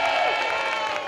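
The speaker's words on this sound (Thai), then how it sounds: "ขอเสียงปรบมือให้กับโรงเรียนร้อยเอ็ดวิทยาลัย" A game show audience claps and cheers for the Roi Et Wittayalai school team, a dense, steady burst of crowd applause that stays loud throughout.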